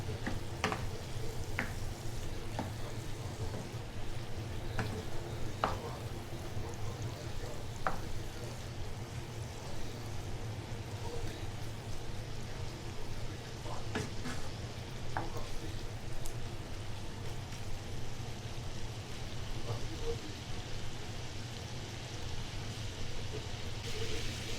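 Shrimp frying in a pan for a shrimp and mushroom fettuccine, giving a steady, even sizzle that lasts the whole stretch with faint scattered pops and ticks and no voices.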